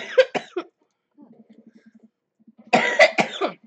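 A character in the dating-sim game Dream Daddy coughs in two harsh bursts, one at the start and one near the end, with a faint soft pulsing between them.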